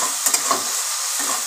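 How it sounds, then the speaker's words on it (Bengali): Potatoes and carrots are stir-fried in a pan for chowmein, giving a loud, close, continuous sizzle with a few quick scraping stirs near the start and end. "আলুটা গাজরটা আমি একবারে ভাজা করে নিই ভালো করে"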